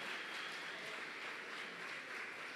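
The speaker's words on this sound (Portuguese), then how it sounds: "Podemos aplaudir mais uma vez o Cláudio e a Carla?" A church audience applauds Cláudio and Carla with a continuous, even wash of many hands clapping, fairly soft and distant, with no voices over it.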